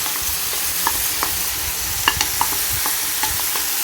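Onions and chicken frying over high heat in a pan for chicken béchamel pasta, a steady close sizzle with a few sharp clicks of stirring or utensil taps scattered throughout, no talking.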